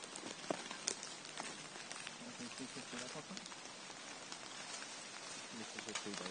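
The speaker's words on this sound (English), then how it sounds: "And it's raining." Soft, steady rain pattering on a surface, dense scattered drops with a few louder taps, fairly quiet and continuous.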